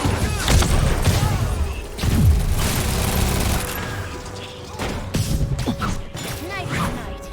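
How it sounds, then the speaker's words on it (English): Grenade blast in the Marvel's Spider-Man video game, a heavy boom amid dense combat noise, crashes and rapid gunfire-like bursts, loud and continuous throughout with voices mixed in. "Grenade incoming!"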